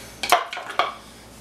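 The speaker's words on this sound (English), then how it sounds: "I'm just going to continue chopping" A knife chops cabbage and tomatoes on a board while making cabbage pico de gallo, giving a few quick, quiet taps close by and then a short stillness.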